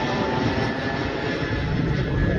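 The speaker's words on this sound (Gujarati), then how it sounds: "તો ફાઇનલી અહીંથી પ્લેન ગયું છે ભાવનગર સાઈડ." An airplane passes overhead near Dumas beach in Surat, a steady loud engine roar that holds constant throughout without voices.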